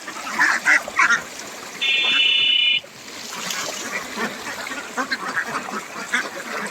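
Ducks quack in a few quick bursts near the start on a duck farm, followed by a steady buzzing tone and then a busy outdoor wash of splashing and rustling as the ducks bathe.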